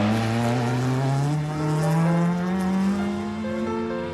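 A rally car at an Irish rally day howls past under hard throttle, its engine pitch climbing steadily over a few seconds, loud and close with a rough, gritty edge.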